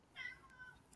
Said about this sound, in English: Was I hearing your cat?